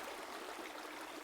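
River water flowing as a steady, even rushing wash, continuous and fairly soft with no breaks or voices.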